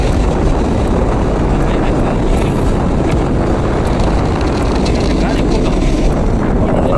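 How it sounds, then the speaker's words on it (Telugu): Strong wind buffets a narrow high viewpoint, roaring steadily and loudly across the microphone with constant rumbling gusts throughout. "అటు సైడ్ వెళ్ళాలంటే గాలి తోస్తూ ఉంది"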